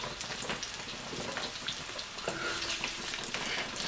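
Chicken pieces coated in cornstarch fry and brown in hot oil in a pan, giving a steady, dense sizzle with crackles throughout and no one speaking.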